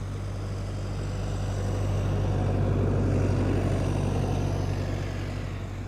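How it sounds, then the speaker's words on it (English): A tractor at Schiphol Airport passes by with a steady low engine rumble that swells slightly as it nears and then eases off, heard alone with no voices. "That is a tractor that will be passing by."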